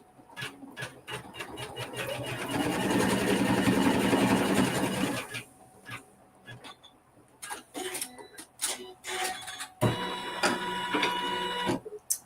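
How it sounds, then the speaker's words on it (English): Sewing machine stitching a seam through fabric, a steady loud mechanical whir that runs continuously for several seconds, then stops and gives way to scattered clicks and handling noises before starting up again briefly. "we're going to stitch another seam."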